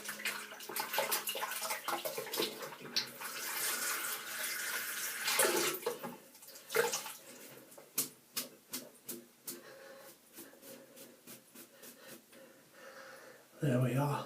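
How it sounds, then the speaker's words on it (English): Running water from a tap rinses a Vie-Long 13061S horse hair shaving brush, a steady broadband splash for about six seconds that breaks into short intermittent bursts as the brush is worked, ending with a brief louder gush. "So I'll just rinse this out a little bit so you can see a bit more of it."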